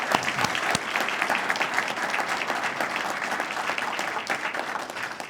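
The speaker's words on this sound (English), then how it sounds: "Let's join in giving all of our sponsors a nice round of applause" A crowd at a Glendale MLK community breakfast gives the event sponsors a warm round of applause, steady mid-distance clapping with a few sharper claps standing out near the start.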